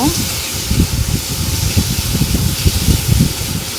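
Tomatoes frying in hot mustard oil in a pan give off a steady, close hiss and sizzle with soft crackling throughout.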